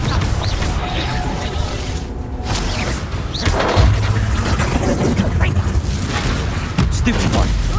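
Confringo blasting curse explosions in the game Hogwarts Legacy: heavy booms and crashing impacts, with sharper blasts near the middle and end, over steady spell-combat noise and voices.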